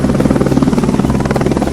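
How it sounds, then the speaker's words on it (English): Cartoon helicopter flying in to a rescue, steady loud rapid rotor chop with a continuous pulsing beat throughout, close and prominent. "How fast the helicopter came to the rescue!"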